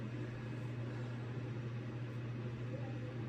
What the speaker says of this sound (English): that noise you're hearing in the background is the heater